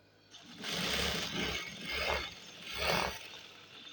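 A sewing machine stitches over a fabric joint in three short, close whirring bursts, each a rapid mechanical chatter separated by brief pauses.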